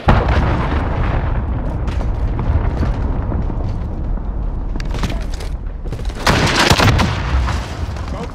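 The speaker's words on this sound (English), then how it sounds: "Allied cruise missile away." Cruise missile strike explosions in Call of Duty Modern Warfare multiplayer, loud rumbling blasts rolling over continuous combat noise, with a sharp, heavier detonation burst near the end.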